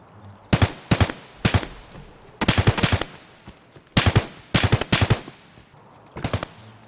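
Gunshots in the video game Escape from Tarkov, loud sharp cracks in short clustered bursts with brief pauses between them, sharp and close.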